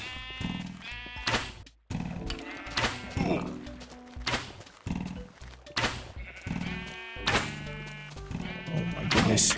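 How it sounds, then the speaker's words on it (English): Several Minecraft sheep bleat close by in overlapping bursts, about six or seven loud calls with short gaps between them and some blocky thuds mixed in. "Sheep are messing me up."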